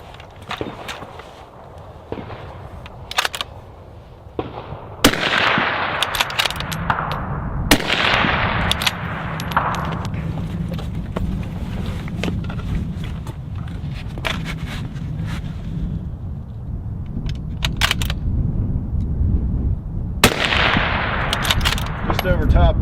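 Rifle shots fired from a rock-pile shooting position at an outdoor range ring out as several sharp, loud cracks spaced irregularly, with shuffling movement and gear handling between them.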